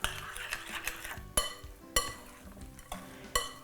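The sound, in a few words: stirring potato latke mixture with egg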